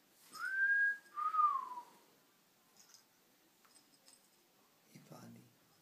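A man whistles two clear rising-then-falling notes close by, followed by faint scattered indoor sounds and a brief soft voice at the end.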